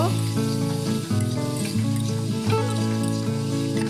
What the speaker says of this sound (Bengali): এবার সব সবজি একবারে ভালো করে মিশিয়ে নেব।